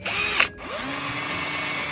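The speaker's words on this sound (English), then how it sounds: "This is how I do all my drilling and everything." A power drill bores into a metal can up close, whining loudly, pausing briefly, then spinning up again into a steady, sustained whir.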